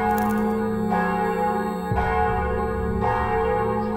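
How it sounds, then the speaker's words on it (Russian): Church bells ring out in a steady, resonant peal, with strikes roughly once a second layered over a sustained humming ring, with no voices. "Колокола зазвонили 4 ноября"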